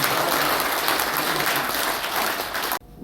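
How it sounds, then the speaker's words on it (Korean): An audience at a launch ceremony in a press center hall applauds to approve a motion, a loud, dense wash of clapping that continues steadily and then cuts off abruptly near the end. "박수로 승인해 주세요."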